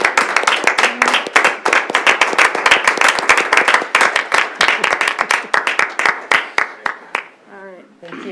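A board of education meeting audience breaks into steady, dense applause with many hands clapping at once, loud and close, then fading into scattered claps, with brief voices under it near the end.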